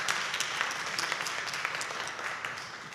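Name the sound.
audience applause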